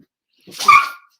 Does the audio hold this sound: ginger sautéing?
no